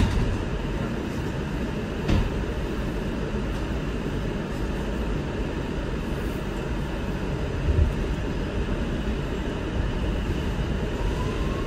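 An R211A subway train on the Far Rockaway-bound A line rumbles loud and steady from inside the car, with a couple of brief clanks over the continuous roar.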